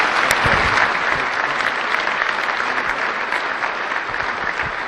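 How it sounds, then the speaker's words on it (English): Audience at a Team Jack gala program applauding a speaker, dense sustained clapping from a crowd filling the whole stretch at even strength. "Let's hear it for Eric Berry."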